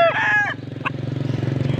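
An F1 Mount Banahaw gamefowl rooster gives a short, close crow at the start, followed by a steady pulsing engine rumble underneath.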